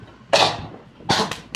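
A voice imitates a dragon coughing and sputtering water: two rough, breathy bursts, the first longer, then a short wet sputter and a quick final puff, fairly close and alone.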